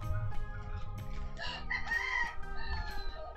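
A rooster crows loudly and close by, a drawn-out call rising and falling, with other fowl clucking around it.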